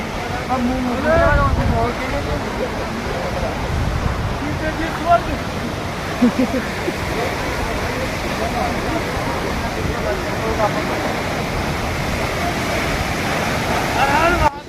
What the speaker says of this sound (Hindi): और वो देखो भाई कितनी ऊंचाई से गिर रहा पानी।